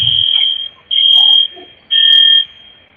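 A high-pitched electronic alarm beeps in three loud, sustained tones, each held close to half a second or more with short gaps between them, sounding alone with no talk over it.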